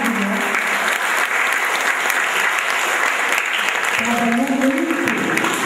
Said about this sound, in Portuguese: Podemos aplaudir o Open House